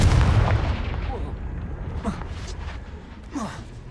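Confringo blasting spell exploding in Hogwarts Legacy, a heavy booming blast with a rumbling decay, followed by fainter bursts and whooshes while a voice calls out over the game sounds.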